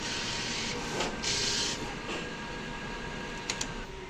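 A sublimation printer runs a nozzle check, giving a steady mechanical whir and hiss with a few brief higher-pitched bursts of carriage and print-head movement, close by and with no talk.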